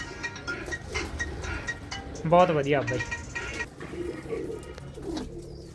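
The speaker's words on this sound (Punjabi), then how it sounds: "ਦੇਖੋ ਕਿੰਨੇ ਸ਼ਾਨਦਾਰ ਕਬੂਤਰ ਨੇ" Pigeons at a fancier's loft coo softly in the background while someone talks over them, with one clearer, louder coo rising briefly in the middle.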